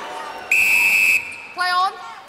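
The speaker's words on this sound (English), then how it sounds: "Centre, wait for my whistle." At a Commonwealth Games 2022 gold medal netball match between Australia and Jamaica in Birmingham, an umpire blows a long shrill whistle and then a shorter second blast, loud over a faint arena background.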